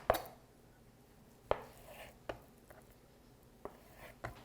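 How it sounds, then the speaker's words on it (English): A knife trimming fat and silver skin off beef, several separate sharp taps and clicks of the blade against a cutting board, spaced irregularly and fairly faint over a quiet kitchen background. "some of this fat and silver skin off"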